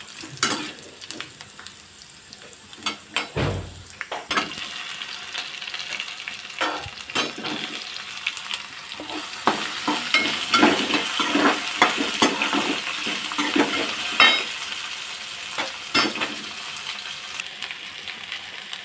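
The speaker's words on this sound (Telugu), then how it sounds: "మనం వెల్లుల్లి వేసుకోండి అది వేగాక కొంచెం అప్పుడు ఎండుమిర్చి ఎండుమిర్చి వేయండి" Garlic and dried red chillies fry in a little oil for an okra stir-fry, a continuous close sizzle that builds over time, with scattered utensil clicks and scrapes and no talking.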